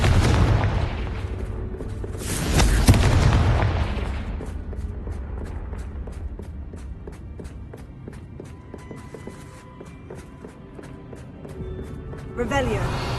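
A Confringo spell explosion in Hogwarts Legacy erupts in a loud booming blast, followed by rumbling, rapid footsteps and scattered impacts, with a voice speaking over the game sounds.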